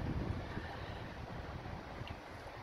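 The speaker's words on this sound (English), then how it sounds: "I don't know if you guys can hear the wind blowing." Wind gusting on a stormy, rainy day makes a steady, loud, broadband rush with a heavy low rumble that swells slightly at the start, with no voices.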